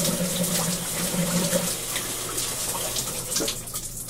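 Shower water running steadily in a bathroom, a continuous close splashing hiss with no pauses and no voices.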